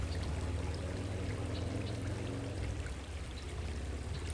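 Running water of a stream where someone is fishing, a steady close rush and trickle that stays even throughout with no voices.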